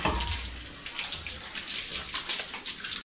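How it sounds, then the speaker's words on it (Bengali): Running water splashes steadily and close by while hands and feet are washed, a continuous soft rushing and spattering with no talk. "হাত পাটা ধুয়ে নিই"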